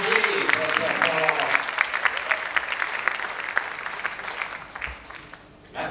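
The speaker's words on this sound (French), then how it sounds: "On fait encore les applaudissements." An audience applauds at a university scholarship award ceremony for mathematics competition winners, sustained rapid clapping for several seconds that thins out toward the end before a brief resurgence.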